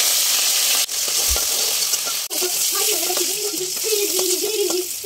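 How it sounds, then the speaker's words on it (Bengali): Vegetables fry in hot oil in a wok, with a steady hiss and sizzle and a few sharp clatters of stirring; there is no speech. "এবারে এক এক করে আমি সব সবজিগুলোকে ভেজে নেব।"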